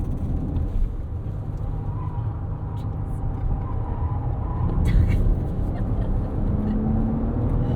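A 2024 Porsche Cayenne E-Hybrid SUV with 463 hp pulling out of a corner, its engine a steady low drone that swells slightly, heard from inside the cabin under someone talking.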